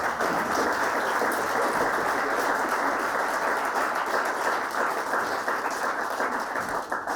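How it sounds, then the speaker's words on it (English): A crowd at a live comedy improv show applauds, with sustained, dense clapping that stays steady throughout and fades slightly at the end. "And big round of applause for Leah, everyone."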